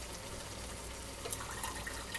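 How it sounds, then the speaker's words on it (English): Juice pours out of a pressed tin into a jar, a faint steady trickle and splash with a few small drips toward the end. "and you pour out that excess juice."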